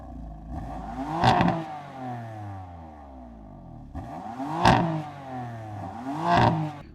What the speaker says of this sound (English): this is an Eisenmann complete exhaust system, meaning that the sound experience from this particular M4 is completely different